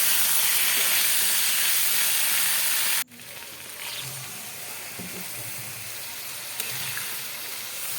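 Bottle gourd stalks frying in a pan with ground spice paste, a loud steady sizzle that cuts off sharply, then resumes quieter and continuous with small pops and stirring sounds.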